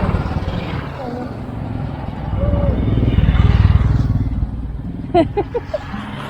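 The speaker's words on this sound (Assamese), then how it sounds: "এখন মিলিটাৰীৰ বাইক আছিলে" A military motorcycle rumbles along the mountain road to Bumla Pass near the China border in Tawang, a low engine drone swelling closer and then fading, heard from a following vehicle while people talk.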